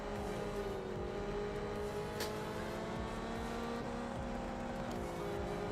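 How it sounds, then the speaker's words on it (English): Race cars in the BeamMP driving game on the Spa circuit, a steady engine drone with rising and falling tonal whine as another car closes in from behind, continuous and fairly close, without talk. "I hear another car behind me."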